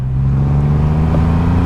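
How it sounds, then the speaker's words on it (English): A Triumph Rocket 3R motorcycle engine runs close and loud, a deep, steady, throbbing drone that holds an even level throughout rather than surging. "I'm just going to blip that throttle there"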